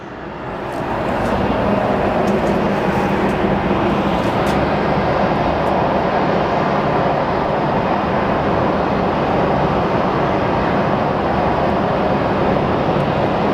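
American Airlines jet arriving from San Antonio at Sky Harbor International Airport, a loud, steady broadband engine roar that swells in and holds constant throughout, with no talk.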